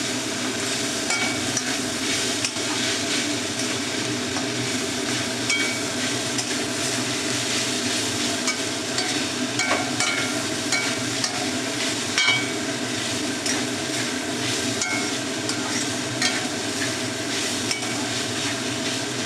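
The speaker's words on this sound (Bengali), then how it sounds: "ভাজতে থাকবো, লাল না হওয়া পর্যন্ত আমি ভাজতে থাকবো" Boiled, shredded chicken frying in a pan for a Bengali radish chicken fry, giving a steady, dense sizzle throughout with faint stirring scrapes and no talking.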